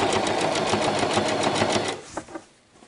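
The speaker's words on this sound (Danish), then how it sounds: "Og så skal vi simpelthen sy ned over ribkanten." Sewing machine running steadily while stitching down over the rib waistband of a circular-cut girl's skirt, a fast even chatter lasting about two seconds, then stopping with a couple of faint clicks.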